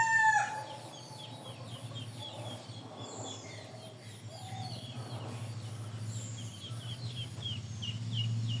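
Several chickens cluck and chatter nearby in Bangladesh, with a rooster crowing, over a low steady hum in the background.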